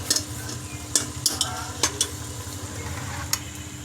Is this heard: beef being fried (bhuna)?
yes